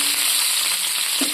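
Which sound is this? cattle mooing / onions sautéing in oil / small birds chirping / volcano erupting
onions sautéing in oil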